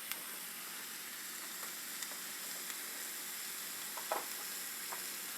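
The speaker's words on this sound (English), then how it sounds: "Sizzle, sizzle." Food sizzles steadily in a hot pan, a constant crackling hiss with a few sharper pops and light scraping of stirring.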